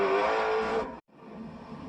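A car races through the night on the Tokyo Expressway South Outer Loop in a video game: a steady, loud engine drone that cuts out for a moment and then resumes at a lower level.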